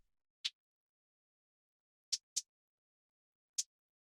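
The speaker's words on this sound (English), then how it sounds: "Next thing we have here is this little operator percussion" An Ableton Operator synth percussion hit makes a tiny, shaker-like sound. Four short, crisp, airy ticks fall at uneven spacing, two of them close together, over total silence. Each is very brief and quiet.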